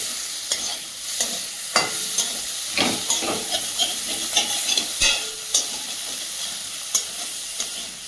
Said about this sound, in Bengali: চিংড়িটা আমার ভাজা ভাজা হয়ে গেছে